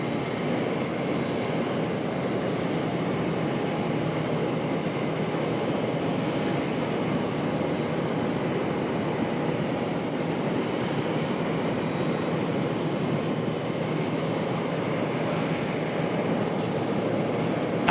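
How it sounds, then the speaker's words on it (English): Near an airliner spotting deck at Charlotte airport, an Airbus A220 jet gives a constant, moderately loud engine roar that stays even and unbroken throughout, without any speech. "There it is, our A220."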